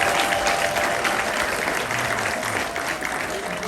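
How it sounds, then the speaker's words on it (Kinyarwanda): Sustained clapping from a crowd of wedding guests, a dense, even roar of many hands that stays loud throughout while faint voices mingle underneath. "Amashyi n'akagira Imana."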